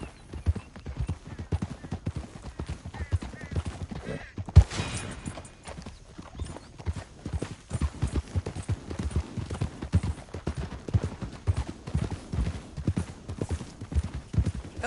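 Horse hooves clip-clopping steadily in the video game Red Dead Redemption 2, a continuous rhythmic trot throughout, with a brief louder thump near the middle and faint game sounds underneath.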